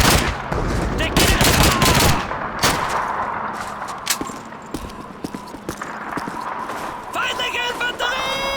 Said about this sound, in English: Machine Gun MG40!